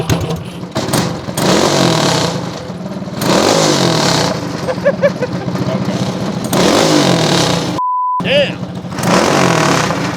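A homemade go-kart's small engine fires up and revs loudly in bursts, with a brief exclamation and talk over the running motor, a short dropout near the end.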